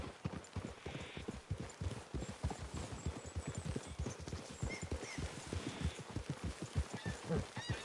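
Horses' hooves clip-clop steadily and close by in a rhythmic, continuous pattern, with an occasional faint whinny and brief low voices in the background.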